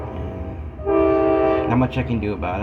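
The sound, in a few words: passing train sounding its horn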